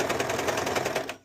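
A domestic sewing machine runs in a fast, steady burst of rapid mechanical stitching ticks, close and fairly loud, stopping abruptly after about a second.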